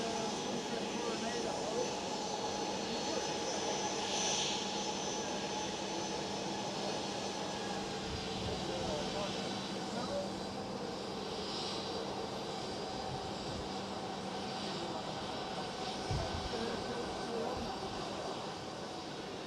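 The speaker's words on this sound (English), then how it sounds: "A320neo has arrived." An EasyJet Airbus A320neo jet arriving at Amsterdam Schiphol, its steady engine roar broad and constant throughout, with brief voices in the background.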